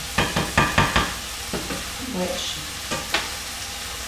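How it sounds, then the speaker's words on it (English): Meat sauteing in a pan for picadillo, loud sizzling with a run of rhythmic stirring scrapes, then a few scattered stirs, with a brief spoken word. "And now I'm gonna reach here because that's sauteing, right?"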